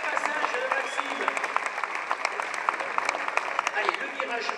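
Audience applause at a bike trial show, steady clapping from a crowd heard at moderate distance, with an announcer talking over it throughout.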